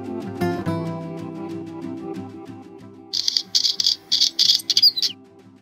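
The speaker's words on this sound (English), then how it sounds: "I heard this chattering. This is a mountain chat." Mountain chat chattering up close, a string of sharp, bright, rapid call bursts that follows a few seconds of lower, unrelated tonal sound.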